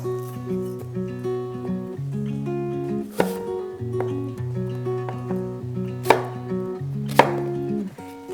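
Knife roughly chopping and coring apples on a cutting board for chunky apple butter, a few distinct sharp chops spaced apart over a soft tonal background.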